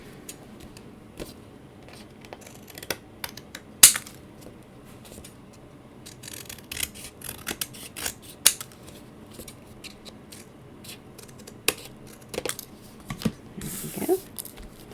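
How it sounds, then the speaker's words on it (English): Scissors trim the excess paper from a stamped card, with crisp, irregular snips spread across the stretch, some louder and close, amid light rustling of paper. "Now we're going to go ahead and trim off the excess."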